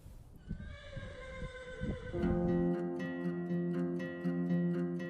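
A horse whinnies in a long, drawn-out, tonal call, preceded by softer snorting and thudding hoof sounds close by on a farm.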